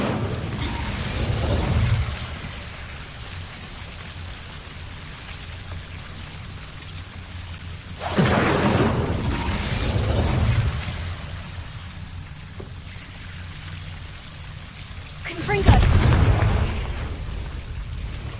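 Fire and explosion spells go off in the Hogwarts Legacy video game on PS5: three loud booming bursts, each followed by a rumbling, crackling tail, spaced several seconds apart over a low continuous background.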